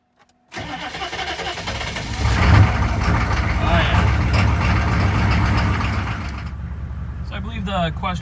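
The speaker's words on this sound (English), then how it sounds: "But we are going to start with a cold start." A vehicle engine cranks and catches on a cold start at about 40 degrees, revving briefly before settling into a steady, close rumbling idle, with someone talking briefly near the end.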